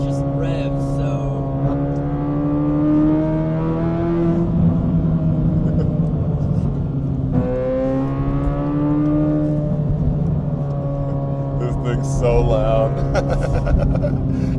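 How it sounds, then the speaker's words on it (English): A Corvette C8 exhaust revs loudly from outside the car, its deep droning note climbing and falling through several rev swells over a steady rumble. "so that you can hear the beautiful exhaust, because the exhaust sounds different on the outside of the car than it does on the inside"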